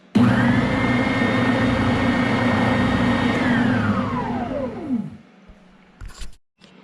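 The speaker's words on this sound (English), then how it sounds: "I will now be shaping the rest of it as well as smoothing it with our spindle sander" A Bauer oscillating spindle sander shapes and smooths reclaimed pallet wood, giving a loud steady motor whine with a rough grinding hiss. The whine winds down after about five seconds, followed by a few faint knocks.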